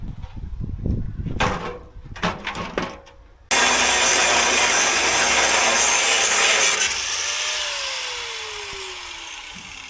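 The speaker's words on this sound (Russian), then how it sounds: "Целый круг ушел, чтобы просто отпилить вот эту трубу." A small angle grinder cuts through a steel exhaust pipe on a KrAZ 255 truck, a loud steady broadband whine that starts abruptly partway in and holds, slowly winding down at the end after some earlier clanking and handling noises.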